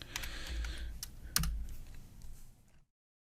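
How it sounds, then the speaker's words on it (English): Quick keystrokes clatter on a computer keyboard in a short, uneven burst of clicks at close range, with one sharper tap in the middle before the sound stops. "I can't type this morning"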